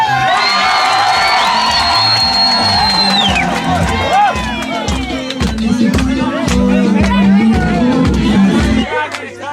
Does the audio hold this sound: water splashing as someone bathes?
no